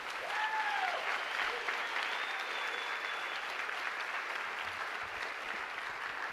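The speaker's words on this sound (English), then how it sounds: "Can we give a round of applause for all of our student moderators this evening?" An evening event audience applauds, a fairly faint, even wash of clapping that holds steady throughout, with a few whistles and whoops rising briefly over it.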